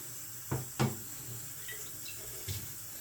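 Water runs from a tap through a carbon filter in a steady, soft stream, with a few louder splashes and gurgles breaking the flow.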